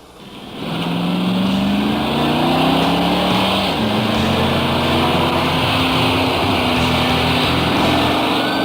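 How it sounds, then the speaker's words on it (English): A car with a TH400 automatic transmission accelerates hard at three-quarter throttle, its engine droning loudly and climbing in pitch, then dropping as it upshifts firmly, close and steady with no talking. "Now, try some upshifts at 3/4 throttle to see how the shifts get firmer with throttle."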